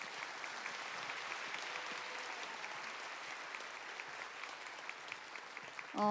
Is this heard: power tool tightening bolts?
no